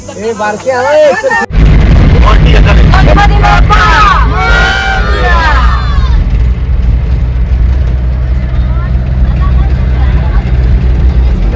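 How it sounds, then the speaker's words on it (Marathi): A vehicle at a village wedding in Konkan starts with a sudden loud, deep rumble and sets off, the engine noise filling the scene under a crowd's chatter and shouting. "गाडी निघाली बघू"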